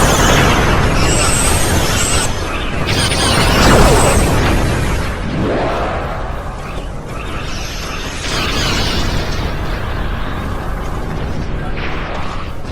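Starship weapons fire and explosions in the space combat game Star Trek Online: loud, dense blasts, booms and whooshing bursts that continue without pause, with some sweeping effects, all close and forceful.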